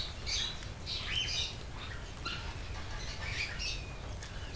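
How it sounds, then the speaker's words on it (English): Exotic birds squawk and call continuously in an indoor aviary in the video game Baldur's Gate 2, a dense overlapping chorus of harsh cries over a constant low ambient rumble, with no talking. "This is an elaborate indoor aviary filled with exotic plants as well as numerous strange birds."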